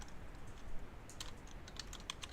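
Soft, scattered clicks come from a computer keyboard as a command is typed, mostly in the second half, faint above a steady background hiss.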